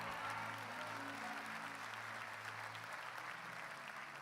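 Congregation applauding at a church service, a steady broadband wash of clapping that continues evenly throughout, with a low sustained musical tone underneath that fades near the end.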